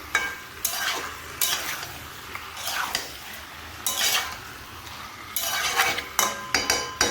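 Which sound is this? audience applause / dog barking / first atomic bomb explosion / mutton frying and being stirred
mutton frying and being stirred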